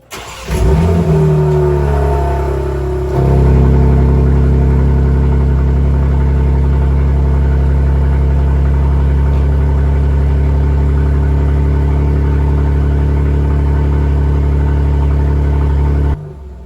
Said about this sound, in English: It's going to be valves closed initially, and then the valves will open. So this is valves closed.